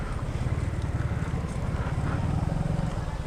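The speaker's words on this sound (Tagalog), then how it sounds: "Alright, jet ski." A jet ski runs on the water on a trip through Mangatarem, Pangasinan, its engine giving a steady, pulsing drone with wind buffeting the microphone the whole way through.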